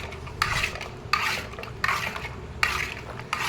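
A spoon scrapes around a pot of milk being stirred to make doi yogurt, four repeated rasping strokes at close range in an even rhythm with no talking.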